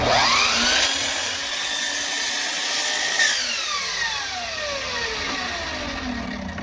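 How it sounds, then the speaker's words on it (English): A compound miter saw cuts a wooden piece for Layens horizontal hive frame parts: the motor whines up loudly, the blade bites through the wood, then the motor spins down, close by with no talk. "Then I'm gonna cut this piece off here with the compound miter saw"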